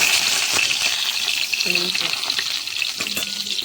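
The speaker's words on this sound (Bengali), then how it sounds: "বেগুন ভাজা হচ্ছে চলো বেগুনটা এবার উল্টে পাল্টে দিই উল্টে পাল্টে ভেজে নিই" Eggplant slices fry in a hot pan with a steady, close broadband sizzle, interrupted by a few scraping clatters as the pieces are turned over.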